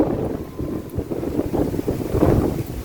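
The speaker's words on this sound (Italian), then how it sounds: "mentre sentite il vento" Wind gusting across an open mountain ridge trail in the Five Valleys ridge area, a steady rough buffeting roar with low rumbling gusts that swell and fade, loud and close on the microphone throughout.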